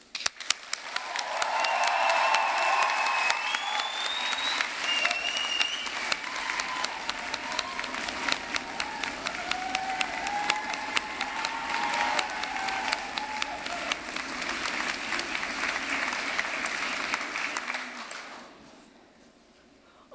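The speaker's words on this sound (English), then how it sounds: "would you please join me in giving a huge round of applause and perhaps a loud cheer to your friends and" A graduation ceremony audience of friends and families applauds loudly with scattered cheers, a dense, sustained wash of clapping lasting about seventeen seconds before fading to quiet.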